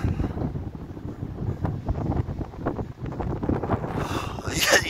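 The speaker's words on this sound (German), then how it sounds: "Der Wind kommt schon." Wind gusting across a rooftop high above the town of Hildburghausen, buffeting the microphone in uneven bursts, with a person speaking now and then.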